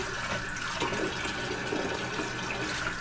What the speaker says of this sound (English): And we're just going to rinse this off.